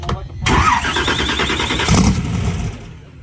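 A hot rod car engine at a drag racing event cranks, catches abruptly and then runs loud and rough at close range, with people talking over it.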